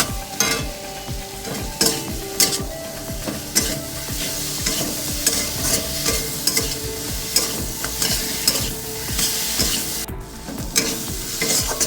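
Capsicum frying lightly in a pan for a no-onion, no-garlic aloo paneer curry, with a steady sizzle broken by repeated scraping and clattering stir strokes, close and fairly loud, and no talking.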